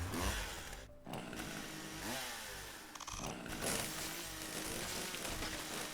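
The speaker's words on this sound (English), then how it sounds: "I've never seen a chainsaw before." A chainsaw weapon revs and cuts in the video game The Riftbreaker, a loud buzzing engine whine that rises and dips in short bursts over game noise.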